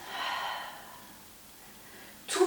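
Soft audible breathing out during a Pilates exercise: a long airy exhale, then a quiet pause, ending with a sharper breath.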